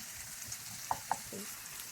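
Garlic added to softened onions in hot oil, frying toward golden, a soft continuous sizzle with a couple of sharp stirring clicks near the middle.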